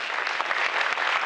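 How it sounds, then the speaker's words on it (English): Audience applause at a design summit, a dense, steady wash of many hands clapping at close range, sustained for the whole moment without pause. "Yeah, applause."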